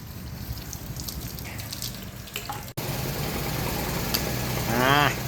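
Running water rinses out the inside of a part in a steady, close gush that breaks off briefly, then resumes with splashing and dripping.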